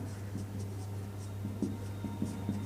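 Chalk or marker writing on a board during a Hindi-language physics lecture on optical instruments, with faint, steady scratchy strokes in short bursts over a constant low hum and no talk.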